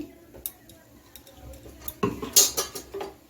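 A spoon scrapes and clinks in a pan as ghee is mixed through chira polao (flattened-rice pulao), scattered light taps building to a louder, busier burst of metallic scraping near the end.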